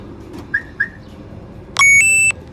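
A car alarm controlled from a smartphone app gives two short chirps, then a louder sustained electronic tone in a quiet setting, on a diesel vehicle.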